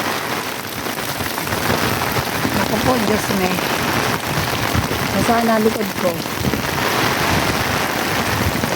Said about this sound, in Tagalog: Pumapatak na ang ulan sa bubong ng payong.